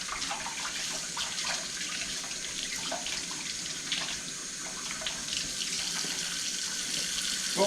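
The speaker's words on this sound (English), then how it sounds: "bring your veggies over here and rinse them off too" Tap water runs steadily into a sink as vegetables are rinsed for a goulash, a continuous close splashing hiss that holds even throughout, with no talk over it.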